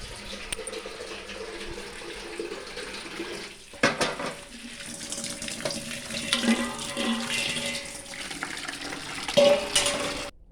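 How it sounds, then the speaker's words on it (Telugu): Amaranth leaves washed under running tap water in a kitchen, a continuous splashing flow with sloshing and handling clatter, close and moderately loud. "తోటకూరని మంచిగా నీట్గా వాష్ చేసుకుందాం"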